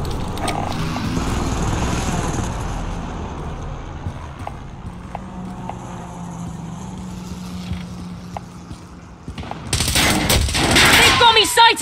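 Gunfire in the video game Call of Duty Warzone, scattered shots early, then a loud close burst near the end, set against busy background noise.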